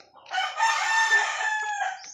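A backyard gamecock crows once, loud and close, a long drawn-out call with a rising start and a trailing finish.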